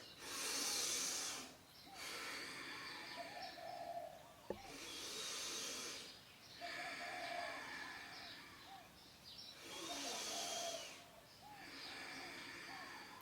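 Slow, deep breaths during a gentle yoga flow, three long broad breathy swells a few seconds apart, close and steady, with soft ambient music underneath.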